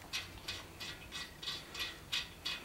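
A thread chaser tool being turned in a head bolt hole of a Chevy 350 engine block, giving eight faint, evenly spaced ratcheting clicks with no talk.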